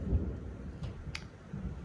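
A thunderstorm sends a faint, distant roll of thunder, a low rumble that swells briefly and then fades under steady quiet background noise.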